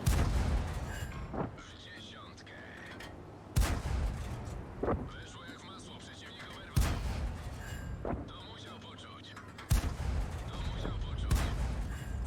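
Four heavy Nashorn tank cannon blasts in a video game boom at regular intervals, each followed by rumbling mechanical noise and someone talking between shots.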